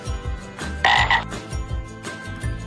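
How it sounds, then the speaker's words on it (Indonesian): Frog croaks repeat in a steady rhythm, low and throaty, with a brighter call bursting through near the start. Close and fairly loud, no talking. "kodok"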